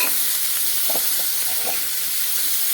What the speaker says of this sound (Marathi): पनीर छानपैकी तेलामध्ये भाजून घ्यायचं आहे